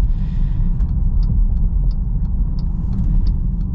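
A 2024 Jeep Grand Cherokee Altitude X with a V6, driven on the road, gives a steady, loud low cabin rumble throughout, with a faint, regular ticking on top and no talking.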